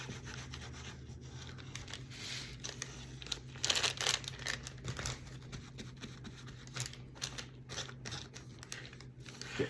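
Cellophane or a plastic baggie crinkles and rubs in close, uneven bursts while being pressed down on a tacky, wet wood scrap Christmas craft, with no voices.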